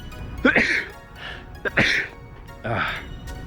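A rapid string of several sharp, explosive sneezes in quick succession, close and loud, like bursts of fire.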